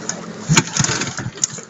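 A small boat engine runs close by with a steady, buzzing mid-pitched drone and a few sharper bumps, while people talk and urge it on.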